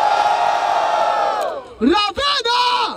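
A crowd at a Brazilian street rap battle roars with cheering for a rapper, the noise fading away before a host shouts loudly over renewed bursts of yells and whoops.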